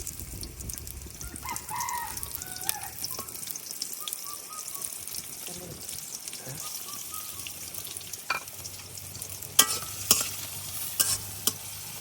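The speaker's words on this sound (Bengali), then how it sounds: "পেঁয়াজ আর রসুনটা ভাজা হয়ে গেছে।" Chopped garlic and onion fry in oil in a wok, a soft steady sizzle with stirring scrapes in an outdoor village kitchen, where a rooster crows faintly in the distance.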